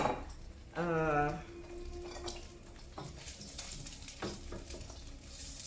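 An egg fries over low heat in a thin pan, giving a steady soft sizzle with a brief voice near the start and small utensil clicks later.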